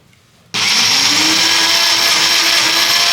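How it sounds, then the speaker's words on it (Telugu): After a brief quiet moment, a kitchen mixer grinder whirs on loudly, grinding soaked chana dal without water in a steady, high-pitched motor drone. "ఇలా నానబెట్టుకున్న పప్పును నీరు లేకుండా మిక్సీ జార్లో వేసుకొని గ్రైండ్ చేసుకోవాలి"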